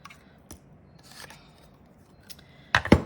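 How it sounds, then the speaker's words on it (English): Scissors snipping material for a handmade cutlery holder: a few light isolated clicks, then a louder burst of close cuts at the end, with no voices. "And then I'm just going to trim this bit. There's my scissors."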